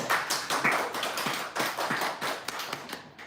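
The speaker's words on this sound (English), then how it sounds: "let's have a huge round of applause for all of our shippers at simulation" A round of applause at an online event for the presenters of a simulation and 3D generative worlds session. The clapping is steady and close, made of many quick overlapping claps that go on for the whole stretch.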